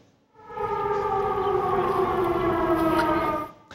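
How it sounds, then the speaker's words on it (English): A civil defense siren wails steadily at a constant pitch, loud and sustained for several seconds before cutting off, with no talking. "Sirens rang out as students changed classes, but no one took much notice."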